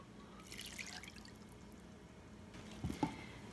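Warm water is poured into cupcake batter, giving faint liquid trickling and a couple of soft drips near the end, quiet and close.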